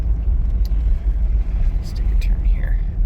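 A 1958 Cadillac Fleetwood 60 Special, all original with 40,000 miles, drives along with a smooth low engine rumble close by, steady and even, with faint higher noises briefly over it.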